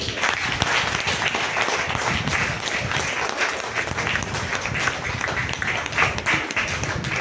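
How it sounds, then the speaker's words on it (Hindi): Loud, sustained applause from an audience at a health care training event, a thick continuous patter of many hands clapping up close, with some voices faintly beneath it. "ताली होगी जोरदार।"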